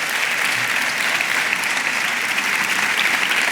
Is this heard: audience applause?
yes